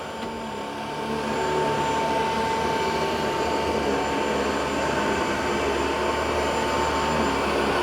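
A Dyson 360 Vis Nav robot vacuum runs down a hallway with a steady, loud, high-pitched whirring roar that holds constant throughout.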